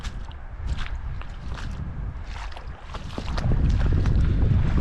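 Wind gusts buffeting an open fishing boat on a Massachusetts lake, a steady low rumble of air across the microphone that swells noticeably louder in the last couple of seconds, with faint knocks and creaks from the hull.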